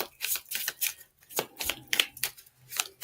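Tarot cards being shuffled by hand during a live card reading: a quick run of crisp riffling bursts in an uneven rhythm, close and clear with no talking.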